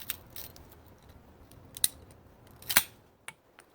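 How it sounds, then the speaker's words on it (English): Handheld cutters snip through dry bamboo with a few sharp, isolated cracks and clicks spaced apart, close and fairly crisp against a quiet background. "we're going to cut this with these cutters"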